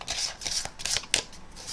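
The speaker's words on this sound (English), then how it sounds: "Once they've finished shuffling their 12 cards" A spectator shuffles a small packet of twelve playing cards, giving close, steady riffling and rustling for a couple of seconds with a few sharper card snaps, and nobody talks.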